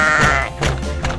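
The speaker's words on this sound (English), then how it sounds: "Come on, animals, jump aboard my cattle truck." Cartoon farm animals board a cattle truck, led by a sheep giving one loud, close bleat with a wavering, nasal tone.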